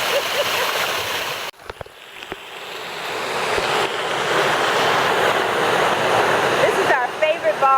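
Resort pool waterfalls and fountains at Iberostar Paraiso Lindo in Riviera Maya pour in a loud, steady broadband rush that briefly dips, then swells back. A few voices are heard over the water.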